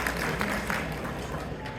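Audience applause for a pledge at a community banquet, a short stretch of steady crowd clapping heard through a hall with low background rumble.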